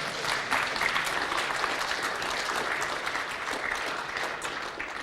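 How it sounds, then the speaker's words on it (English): Conference audience at a ShmooCon security talk applauding steadily, a dense, even wash of clapping from many hands that holds at constant loudness throughout. "You can applaud if you want."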